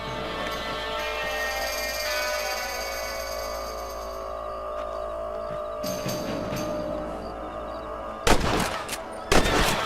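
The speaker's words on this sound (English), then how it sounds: "You're better at shooting rabbits than outlaws, I see." Rifle shots ring out while hunting rabbits in the Red Dead Redemption video game, two sharp cracks near the end over a steady ambient hum and background game noise.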